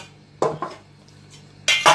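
Metal clanks from a pressure cooker being handled in a home kitchen while chickpeas are prepared with whole spices: two pairs of sharp, close knocks separated by a quieter pause, with no voices.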